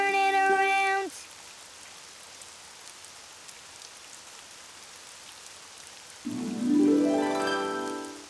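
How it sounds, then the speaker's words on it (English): Steady, soft rainfall in a children's video game hisses throughout, with brief tonal musical notes at the start and again near the end over the patter. "Oh, it's raining outside."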